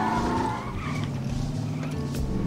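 Car handbrake skid in the video game The Saboteur, a steady engine drone with tire scrubbing that runs unbroken and loud, with music layered over it throughout.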